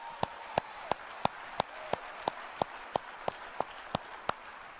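Steady, evenly spaced claps, about fourteen sharp hand claps in a slow rhythm, sound from a room at a business presentation as a speaker is welcomed on stage. They are moderately close, with no talking over them.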